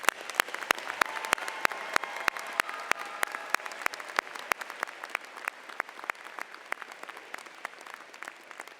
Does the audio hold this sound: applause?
yes